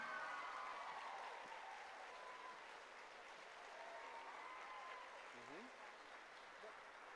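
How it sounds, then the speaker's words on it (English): Audience applauding steadily for ensemble ballet dancers at a youth ballet competition awards ceremony, a dense sustained clapping that thins slightly toward the end, with faint voices mixed in. "Let's give a huge round of applause to our ensemble dancers"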